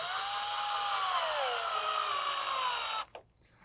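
A power drill drives a screw into the wooden panels of a KidKraft Lakeside Bungalow playhouse during assembly, one steady close whine for about three seconds that slowly drops in pitch before cutting off.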